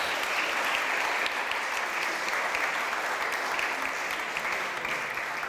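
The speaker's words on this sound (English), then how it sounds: "applause for Latifa Mwazi" Audience at an international film festival award ceremony applauding a winner, a continuous, full wash of clapping that holds steady from start to finish.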